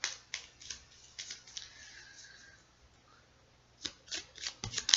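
Tarot cards are drawn from a deck, giving soft, quiet shuffling and snapping card flicks in short bursts at the start and again near the end, with a faint lull between.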